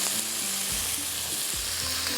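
Garlic, black peppercorns, onion and tomato fry in a pan with a steady, close sizzle, with a few soft stirring scrapes mixed in.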